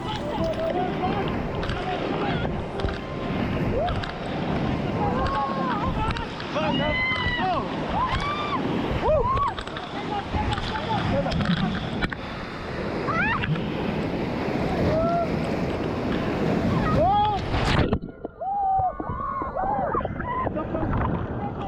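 Raft trip down a river through rapids near Rishikesh, with constant rushing whitewater and splashing throughout, overlaid by shouts and excited voices of people aboard, easing suddenly near the end as the water calms.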